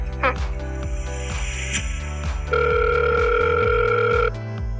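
A telephone rings in electronic bursts over background music, with a steady tone sounding near the end.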